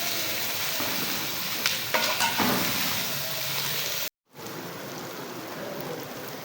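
Onions dropped into hot cooking oil for chicken korma, a loud spreading sizzle with a few rustling bursts early on, then a brief cut to silence before the steady frying resumes.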